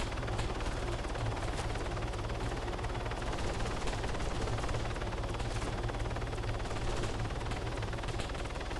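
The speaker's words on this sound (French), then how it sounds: "Il a pris cher ou pas l'hélico?" A helicopter in the video game Arma 3 makes a dense, steady rotor and engine roar throughout, with faint gunfire bursts flecked through the broadband wash and no talk.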